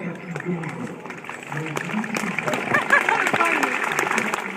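Outdoor audience applause at a border collie herding demonstration with Indian Runner ducks, moderate clapping that swells toward the end, with voices talking over it.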